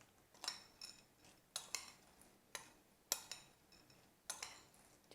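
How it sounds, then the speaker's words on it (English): A spoon stirs chocolate chips and a tablespoon of plain flour in a bowl, making faint, sharp clinks against the bowl in a loose, repeating rhythm. "I'm using the plain flour, about one tablespoon. Just coat the chocolate chips like this."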